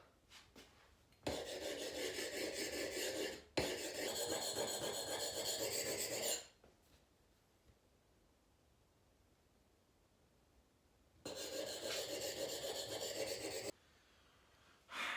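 A fine file rasps along a blade edge in two long sharpening passes and one later stroke, each a steady scraping hiss separated by quiet pauses.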